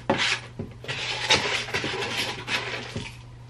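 Potting soil mix for propagating a melanochrysum plant is scooped and rubbed by hand, giving soft repeated scrapes and gritty rustles in an irregular rhythm, close and fairly quiet with no talking.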